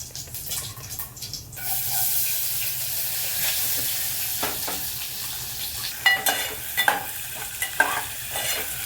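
Chopped onion goes into hot oil with roasted whole spices and fries, a bright hiss swelling after a short stir, then steady close sizzling broken by several sharp clinks of a stirring spoon, with no speech.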